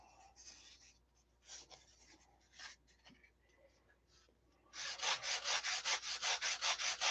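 Sandpaper is rubbed over wooden ribs, first in scattered light strokes and then in a fast, steady run of loud, close back-and-forth strokes near the end.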